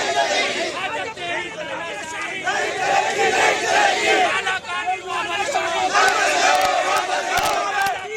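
Street protest crowd in Kolkata against the Waqf amendment bill, many voices chanting slogans together in a loud, continuous wash of rhythmic shouting with dense babble underneath.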